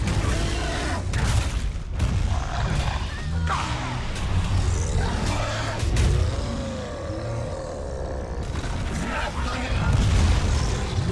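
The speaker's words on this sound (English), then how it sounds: "Oh, she did her cool explosion." A character's explosion attack booms and roars in the Lord of the Rings: War in the North video game, heavy and continuous under game voices and battle noise.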